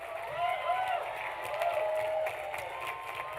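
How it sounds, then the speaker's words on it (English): Commencement audience applause at the USC Leonard Davis School of Gerontology ceremony, a crowd clapping and cheering for families and friends, moderately loud, mixed with some voices and faint whistling. "And also a round of applause to all the family, parents, and friends."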